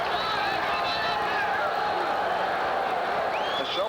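Stadium crowd at a New York Cosmos versus Juventus football match chanting "Juve", a loud, continuous massed roar of voices that holds steady throughout and thins briefly near the end.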